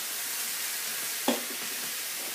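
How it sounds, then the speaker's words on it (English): An enchilada ring sizzles steadily in a hot pan on a stovetop, a constant close frying hiss with one brief clatter of tongs as it is flipped. "now you can hear it sizzling"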